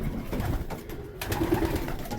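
Pigeons in a dovecote on a frosty day with water heaters running, giving soft low coos and bird calls close by, with light rustling and steady background noise throughout.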